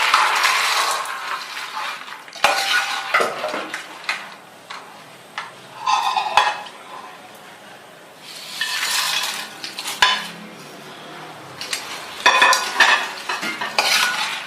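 Sarkara varatti being stirred and mixed in a pan of thick cooked jaggery syrup, with repeated scraping and clinking strokes of the spoon in uneven bursts and brief soft pauses between them.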